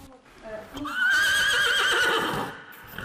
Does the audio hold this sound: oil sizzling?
no